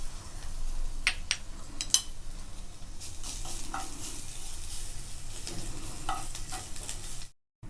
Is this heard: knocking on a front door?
no